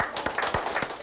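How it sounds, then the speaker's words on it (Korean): Brief applause from an audience at a health lecture, a few crisp claps in a quick irregular run, close and clear with no talk. "다시 한번 명품 강연을 들려주신 우리 강지원 선생님 다시 큰 박수 부탁드리도록 하겠습니다."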